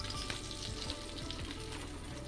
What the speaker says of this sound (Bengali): মাছগুলোকে ভাজা করে নিচ্ছি, তাড়াহুড়া করে করতে হবে।